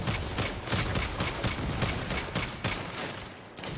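Automatic gunfire from a full magazine emptied in the Saints Row video game: a steady rapid train of loud, evenly spaced shots that fills almost the whole stretch, then briefly drops off near the end.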